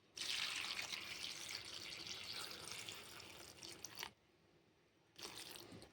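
Water pours steadily from a tap onto cauliflower pieces for about four seconds, a soft splashing stream, then stops briefly before pouring resumes.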